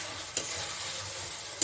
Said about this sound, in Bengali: আরও কষাতে হবে, ভাজা তো।